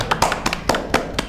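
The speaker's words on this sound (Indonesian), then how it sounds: "Tepuk tangan." A few scattered, close hand claps tap out irregularly from a small audience at an Indonesian property seminar on home buying, about six distinct claps over a second and a half with no talking.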